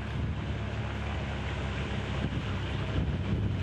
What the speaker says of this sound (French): Là, il y a un peu de vent hein, dû aux mauvaises conditions climatiques.